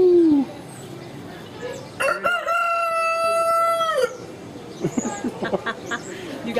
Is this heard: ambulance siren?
no